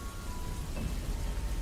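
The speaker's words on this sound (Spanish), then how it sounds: "Llovía." Steady rain falling, a soft continuous patter with no breaks, set as a backdrop in a dark horror story.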